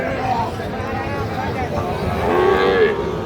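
Cattle, including Sahiwal bulls and calves, moo at a busy livestock market, the calls rising clearly over steady crowd babble and nearby voices.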